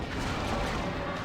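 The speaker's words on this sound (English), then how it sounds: "it's Valkyrie missiles hitting the ground looking like a giant EMP explosion" Valkyrie missiles striking the ground in StarCraft, a dense rumbling barrage of explosions blending into a continuous, loud crashing roar with no pauses.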